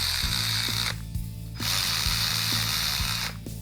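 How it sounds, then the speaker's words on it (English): An electric 1/4-inch ratchet runs bolts down in a workshop, with two long whirring bursts of rapid mechanical clicking separated by a short pause, up close with no talking. "We're just going to use the electric 1/4-inch ratchet just to run these down."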